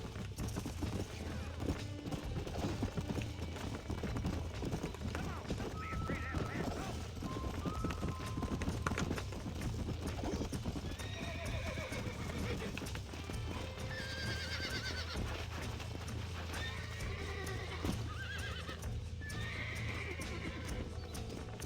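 Horse neighs and whinnies ring out over steady clip-clopping hooves in Red Dead Redemption, with voices talking and a busy game-like soundscape underneath.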